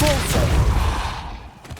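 A Depulso force spell is cast in the Hogwarts Legacy video game, a sharp percussive burst with a brief whooshing tail, heard close and loud amid game ambience.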